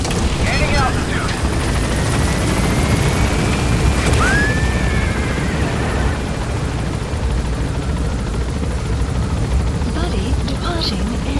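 Helicopter in Metal Gear Solid V climbing away, a loud steady broadband rotor and engine roar filling the whole stretch with a rising whine partway through.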